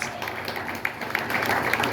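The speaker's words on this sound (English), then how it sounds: "Let's give her a round of applause for that." Audience clapping at a vintage rockabilly fashion show in Ohio, a short burst of scattered applause with some crowd murmur underneath.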